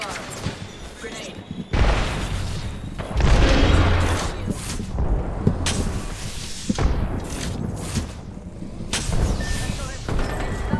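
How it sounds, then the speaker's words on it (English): Arc star grenade and gunfire in an Apex Legends match, loud booming blasts and crackling shots in close bursts, several heavy impacts and explosions stacked over each other, with a player talking underneath. "Releasing an arc star. Grenade."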